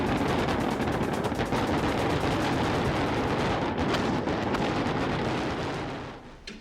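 A massive fireworks display bursts in rapid, continuous crackling barrages, dense loud explosions overlapping for several seconds before thinning and fading away.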